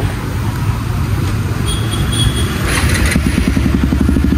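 A Hero Xtreme 125R motorcycle fitted with an Akrapovic-style MS pipe full-system exhaust runs steadily nearby, its engine note an even, moderate rumble with a faint rhythmic pulse.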